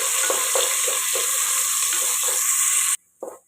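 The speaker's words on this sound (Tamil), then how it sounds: "ரெண்டு வெங்காயம் ஸ்லைஸாக கட் பண்ணு இது பொன்னிறம் ஆற வரையும் வதக்கலாம்" Sliced onions sauté in hot oil with cardamom, bay leaf and fennel for a soya-chunk biryani, giving a steady, close, loud sizzle with light stirring that stops abruptly near the end.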